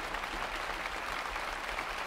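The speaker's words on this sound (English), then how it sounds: "acknowledging the applause and a very emotional response to this wonderful work" Audience in a concert hall applauds steadily and densely after an orchestral performance of Mendelssohn's last great orchestral work, a continuous wash of clapping with no pauses.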